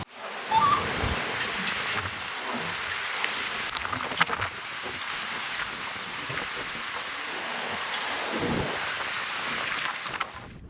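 Steady rain pouring down in Aravalli district during an unseasonal downpour with strong wind, a continuous broadband hiss with occasional louder gusts, heard alone without voices.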